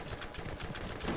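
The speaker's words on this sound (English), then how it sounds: "I'm being shot at" Gunfire aimed at the player in the Borderlands video game, a quiet, rapid rattle of overlapping shots over about a second, with no voices.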